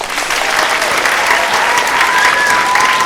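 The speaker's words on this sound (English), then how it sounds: "Give them a round of applause." Audience in a school theater applauding a first-grade play, a dense steady wash of clapping that fills the whole stretch at close, loud level.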